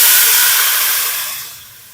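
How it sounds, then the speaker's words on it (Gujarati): Mustard seeds, cumin and asafoetida sizzle in hot oil for a tempering, giving a loud, close, bright hiss that fades away over two seconds, with no voices. "રાઈ, જીરું અને હિંગ નાખીને આપણે વઘાર કરી લીધો છે."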